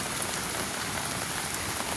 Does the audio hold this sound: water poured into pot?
no